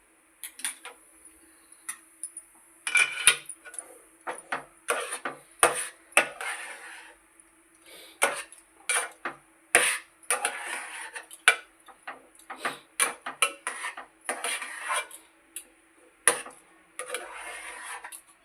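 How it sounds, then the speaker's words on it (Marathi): Semolina dough being stirred in a heavy pot over a low gas flame: irregular close knocks and scrapes of a spoon against the pot, in short bursts with brief pauses. "पुन्हा गॅसवर ढवळून घेऊया"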